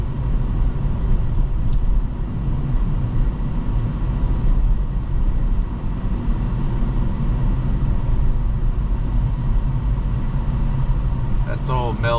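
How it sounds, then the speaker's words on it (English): An old mail truck driving at night, its engine and road noise a steady, loud rumble throughout, with a brief higher chirp near the end. "That's old mail truck driving right there."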